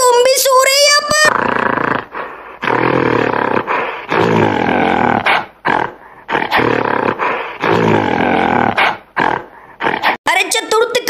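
Zombies growl and roar in GTA 5, long raspy snarling bursts that come one after another with short gaps, loud and close, with game sound around them.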